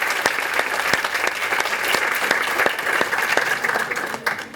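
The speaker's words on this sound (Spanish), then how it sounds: "Aplausos, por favor." Steady applause from a crowd at a university academic event, many hands clapping continuously with a few sharper individual claps standing out, sustained at an even level throughout.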